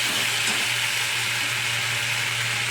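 Pumpkin and prawns fry in a pan after water is added, giving a loud, dense, steady hiss and sizzle with no breaks, close up and without any talking.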